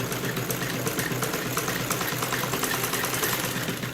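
A sewing machine runs steadily, stitching the very end of a salwar hem (the poncha). The hum is continuous and fairly loud, with a fine rapid texture and no talk over it.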